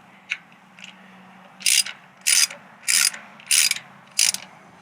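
Ratcheting bursts from a wrench snugging bolts on a 2024 Harley-Davidson Road Glide, five crisp clicking runs in an even rhythm after a couple of faint ticks, close and clear with no talking.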